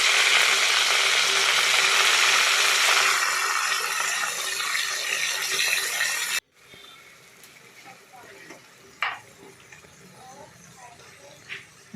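Ginger, onion and garlic paste fries with stingray fish in a pan for a Bengali stingray curry, giving a loud, dense sizzle for about six seconds. It then cuts abruptly to a quieter kitchen with light clatter and a couple of sharp knocks.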